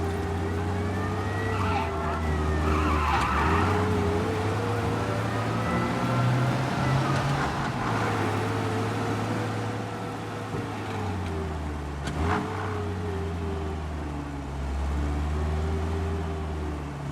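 Car in the Mafia video game driving fast in a chase, engine roaring steadily at close range with shifting pitch and siren-like tones over the whole stretch; no clear tire skid stands out.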